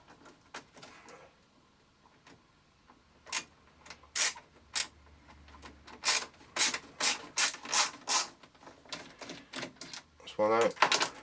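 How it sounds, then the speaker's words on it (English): Torx screwdriver working screws out of a Siemens PG-730 PLC programmer casing, a series of short scraping, ratcheting turns in quick bursts, close and fairly quiet, with someone speaking briefly. "So let's pop these screws out."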